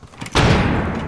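Flashbang grenade going off in Rainbow Six Siege, a single loud, close burst that follows a few faint knocks and fades into a washy rumble.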